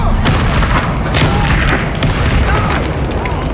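A Bombarda explosion spell goes off in Hogwarts Legacy, a loud booming blast with heavy low rumble and crackling bursts sustained across the moment, close and dominant.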